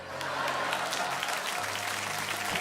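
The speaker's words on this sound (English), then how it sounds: "Give it up for Chuck and his tablet" Steady crowd applause played as a sound effect during a spooky-themed Metal Gear stream, a dense wash of many hands clapping at moderate volume throughout.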